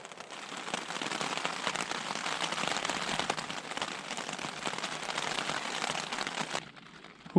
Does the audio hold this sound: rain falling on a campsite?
yes